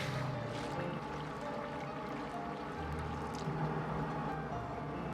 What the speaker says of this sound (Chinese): 下面开始起锅烧水